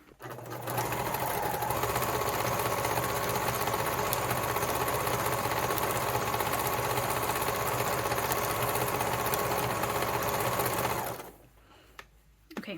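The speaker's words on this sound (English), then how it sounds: "I'm going to sew the curly toe now." A sewing machine runs continuously for about eleven seconds while stitching the curly toe of a stocking, a steady close whir, then stops abruptly and leaves near-silence.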